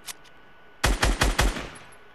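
A burst of four rapid gunshots rings out in Fortnite gameplay, loud and close, after a faint earlier shot, with the last report trailing off into a short echo.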